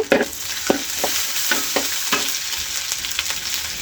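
Beef fries loudly in a pan as garlic paste goes in, giving a dense, steady sizzle broken by repeated sharp scrapes and taps of a spoon being stirred through the meat.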